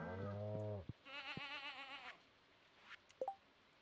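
Sheep and goats bleating in the farming video game Stardew Valley, a few loud wavering bleats one after another, then a short sharp blip alone.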